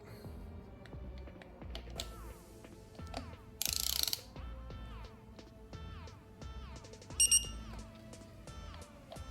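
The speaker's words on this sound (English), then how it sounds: "I'll get my torque wrench out." A torque wrench clicks and ratchets in a steady run of close mechanical ticks while tightening bolts on a Yamaha R6 thermostat housing, with a few sharper clacks and no talking.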